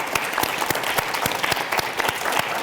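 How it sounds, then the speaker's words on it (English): A conference audience claps for a panel at an AI event, a steady dense round of applause with sharp individual claps standing out, sustained at an even level throughout. "let's give them a big round of applause"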